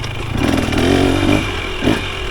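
A 2023 KTM 300 XC TBI two-stroke dirt bike climbing a trail hill in third gear, its engine droning loud and close with a brief surge near the end.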